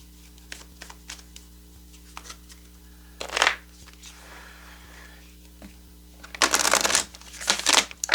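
Tarot cards being shuffled up close: scattered soft flicks, then a couple of longer riffling bursts of paper rustle, with quiet pauses between.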